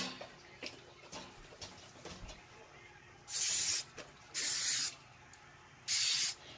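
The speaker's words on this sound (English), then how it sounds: "It doesn't say to, but I'm going to spray these." Three short, loud hissing bursts of non-stick cooking spray coat heart-shaped baking molds, each lasting about half a second, separated by quiet kitchen sounds.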